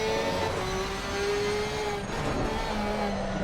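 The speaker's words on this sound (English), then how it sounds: "listen to that screaming Porsche" A Porsche race car screams through an endurance race at the Nurburgring, a high, sustained engine note that climbs steadily and dips briefly before resuming, loud and continuous with no talking.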